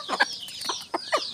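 A hen clucks in a quick series of short, close, nasal notes, several clucks in rapid succession with no talking.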